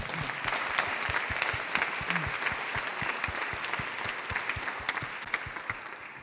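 Conference audience at a town hall session applauding, a dense, sustained round of clapping from a large room that holds steady and then tapers slightly.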